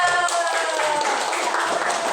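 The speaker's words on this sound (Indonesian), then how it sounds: "Beri tepuk tangan ya." Students in a classroom applaud the winning quiz group, a short burst of many hands clapping close by with a few voices murmuring underneath.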